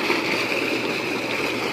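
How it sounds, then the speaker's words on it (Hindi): Water gushes under pressure from the 5-inch delivery pipe of a solar-powered tubewell, a brief, loud, steady rushing splash close by. "पानी बहुत प्रेशर के साथ आ रहा है"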